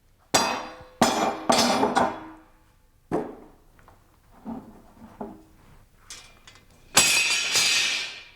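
A cooper drives the head into a wooden barrel with a hammer and a chazo, landing several sharp, ringing metallic blows separated by pauses and lighter taps, ending in a bright, harsh strike.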